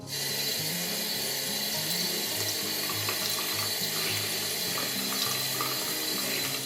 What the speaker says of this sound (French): Puis je vais les rincer.